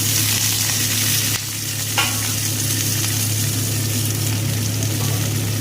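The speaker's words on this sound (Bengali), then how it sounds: "এর মধ্যে সমস্ত এই যে কেটে ধুয়ে রাখা সবজিগুলোকে দিয়ে একসাথে ভেজে নেব।" Chopped, washed vegetables fry together in oil in a pan, giving a loud, steady close sizzle with a low hum beneath it and a single sharp stirring clatter partway through, no speech.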